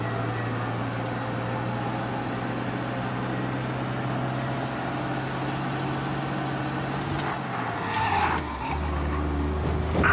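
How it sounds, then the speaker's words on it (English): A car in Mafia: Definitive Edition revs steadily at high speed, then brakes and skids with a brief tire squeal near the end, sounding like game audio. "We lose them by driving real fast and getting clear of them."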